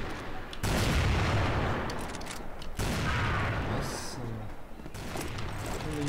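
Barrett sniper rifle firing in the online shooter CrossFire, a few heavy booming shots spaced a couple of seconds apart, loud and close, over game background noise with someone talking.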